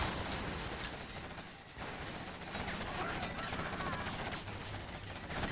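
Gunfire with armor-piercing bullets in a video game free-for-all tournament, a dense run of rapid shots and mechanical clatter at steady loudness, with a brief dip partway through.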